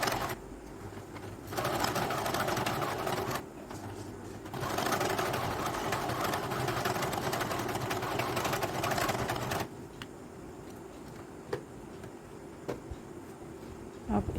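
An electric sewing machine stitches blouse lining fabric in close, continuous runs of rapid whirring, pausing briefly between bursts and falling quiet near the end with a few soft handling clicks.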